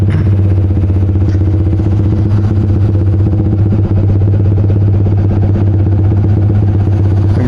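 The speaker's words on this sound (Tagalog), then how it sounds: "Naglalaro mag-isa yung makina." Yamaha R15 V3 motorcycle engine idling unevenly, a loud, continuous, slightly pulsing close-up drone with faint clatter and no speech.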